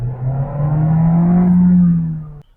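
The 1.5 TSI four-cylinder of a VW Virtus with a DSG gearbox, heard from inside the cabin, hums as it accelerates, its tone rising smoothly and fairly loud for about two seconds before cutting off abruptly.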